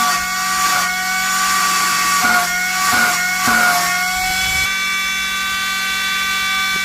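A 12-volt, 3.25-amp double-motor 3-inch server fan runs at high speed with a loud, shrill, steady whine. The pitch wavers and dips a few times midway, as if the airflow is briefly disturbed, before settling back to a constant tone.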